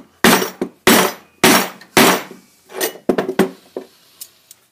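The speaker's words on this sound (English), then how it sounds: "get a screwdriver, chisel, kind of put it in there a little bit, get a nice couple good smacks on each side." Metal tool such as a screwdriver or chisel hammered into the end of a power conduit for scrap, giving a run of loud sharp metallic smacks, four heavy strikes then several lighter, quicker taps, close up.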